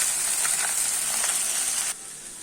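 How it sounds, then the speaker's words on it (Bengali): Noodles fry with scrambled egg in a pan, giving a bright, close sizzle with a few stirring scrapes. It cuts to a quieter hiss partway through, and there is no talk. "এখন নুডলসটা ঢেলে দিব।"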